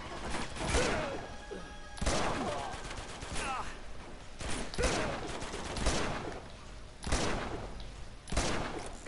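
Gunfire from the video game Uncharted 2: Among Thieves, with repeated loud bursts of shots roughly every second or two throughout, set against game ambience and a faint voice.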